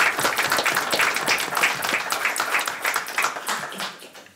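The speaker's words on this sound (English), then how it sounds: "So I think all three of them should get a round of applause for their service." Applause for retiring board chairs at a county commission meeting: a steady crowd of clapping hands fills the room for a few seconds, loud and close, then tapers slightly at the end.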